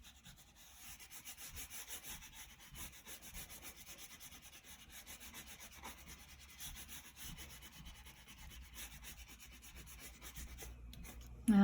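A dark green crayon rubbed back and forth across paper, a soft continuous scratchy friction close to the mic, steady and faint, with no voices.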